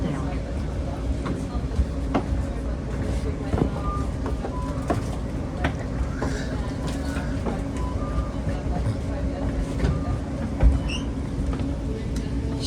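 Onboard Caltrain Southbound Express train 518 from Millbrae to San Jose Diridon, a steady low rumble of the rolling carriage with faint rattles and squeaks, and people talking quietly underneath.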